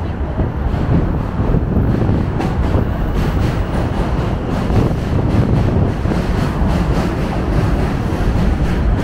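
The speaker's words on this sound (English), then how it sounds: "maybe an M train, because now there's a Manhattan-bound M train crossing" A Manhattan-bound M subway train crosses overhead, producing a loud, continuous rumbling rail roar mixed with heavy wind noise that stays constant from start to finish.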